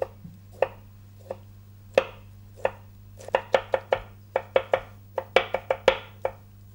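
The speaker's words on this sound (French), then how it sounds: "on va hacher un petit peu de truffe du Périgord" A knife chops Périgord truffle on a board in close, crisp knocks, starting sparse and irregular, then quickening into a denser run of strokes over a low steady kitchen hum.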